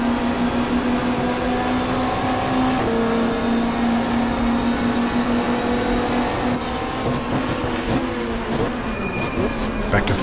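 Hyundai touring car at nearly 200 km/h on the back straight at Mallala in the racing game GTR2, a sustained high engine whine with shifting tones, steady and loud throughout.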